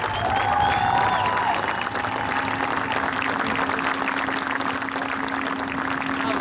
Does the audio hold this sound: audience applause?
yes